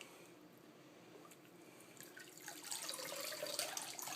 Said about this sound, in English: just let it drain off, drip off.